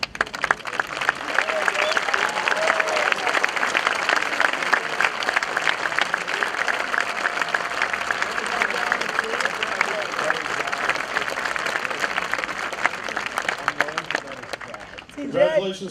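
A graduation audience at a 2016 high school ceremony applauds scholarship recipients, with loud, sustained dense clapping and crowd noise for about fifteen seconds before tapering off.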